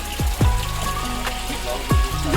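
Hot spring water steadily flowing out from the ground at a tourist spot, close and continuous splashing with occasional drips and gurgles.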